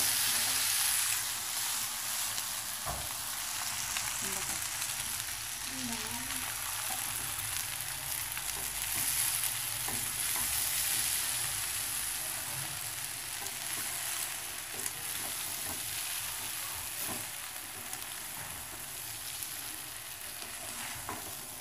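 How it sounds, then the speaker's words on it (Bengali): Food being stirred in a hot frying pan, with tomato sauce just added, gives a steady, close sizzle and hiss throughout, broken by faint scraping and stirring knocks, with no voices. "এখন ভালো করে মিশিয়ে দিব"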